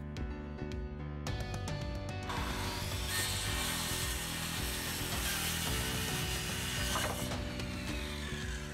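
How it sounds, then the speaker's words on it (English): A circular saw rips across a 2x12 wooden board for a bench top, starting with a few sharp clicks before the motor spins up into a loud, sustained whining cut that holds steady for several seconds. "cutting it with the circular saw"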